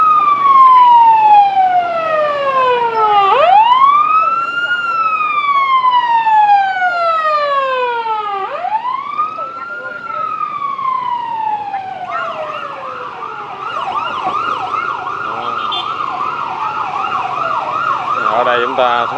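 An ambulance siren wails repeatedly in rising and falling sweeps near Tan Thanh market in Saigon, loud and close, shifting to a faster warbling pattern toward the end over street traffic noise.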